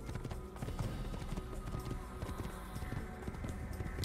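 Horse hooves in Assassin's Creed as a rider travels overland, a steady rapid clip-clop close by, running continuously with no talk over it.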